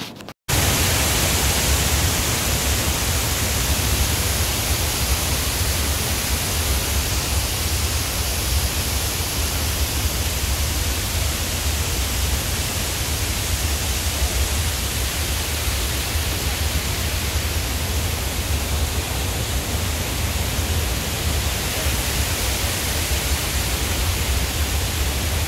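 Continuous broadband rush of water at Manathal Lake in Salem, a dense, even roar with no breaks, close to the microphone and heard alone for the whole clip.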